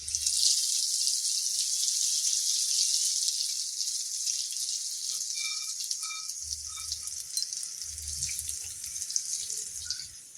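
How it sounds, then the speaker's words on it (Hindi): Garlic and dried red chilies sizzle in hot oil in a pan as a tempering, giving a steady bright hiss that slowly eases off, with a few soft low knocks near the end. "एकरा छौंक देबै।"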